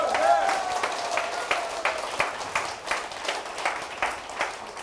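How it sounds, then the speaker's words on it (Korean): Audience at a neighborhood redevelopment residents' information meeting clapping in a steady patter of individual claps, moderately close, with a voice trailing off at the start. "이거 올라간다고 믿는 분들은 크게 박수 한번 쳐주십시오"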